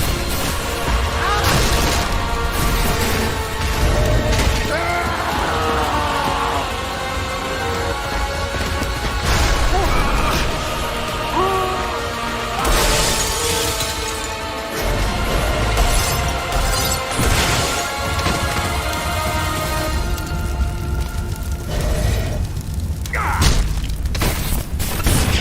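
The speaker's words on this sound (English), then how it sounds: "That's the Quake rocket launcher." Quake rocket launcher shots and explosions in a video game, loud repeated booms and crashing blasts layered over busy game sound and music throughout.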